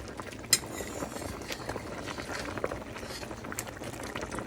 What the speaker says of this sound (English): We'll allow this to boil for maybe another hour or so.